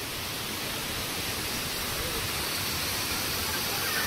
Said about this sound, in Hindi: ये देखो बहुत ही सुंदर नज़ारा पारसा वाटरफॉल का